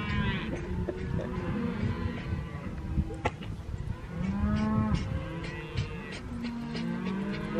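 Cattle lowing near a campground at Vedauwoo, Wyoming: several drawn-out moos at a moderate distance over steady outdoor background noise.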